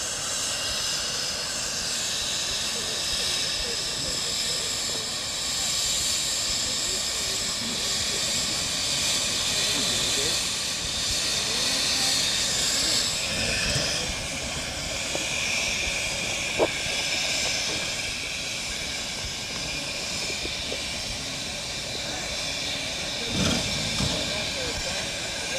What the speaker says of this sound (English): And of course, our usual locomotive shot.